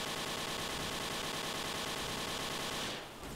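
Sustained rapid automatic gunfire from the Dino D-Day video game, a dense, loud, unbroken stream of shots that cuts off abruptly near the end, with no talking.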